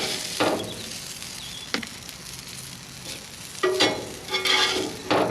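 Peppers come off a hot griddle while cooking a cheesesteak sandwich, a steady low sizzle broken by several sharp scraping clacks of a spatula on the metal surface.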